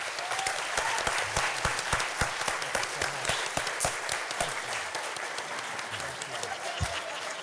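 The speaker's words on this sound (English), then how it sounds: "Let's give him a round of applause, please." Warm round of applause from a business lecture audience, many hands clapping at once in a full, sustained wash with a few louder individual claps, tapering slightly toward the end.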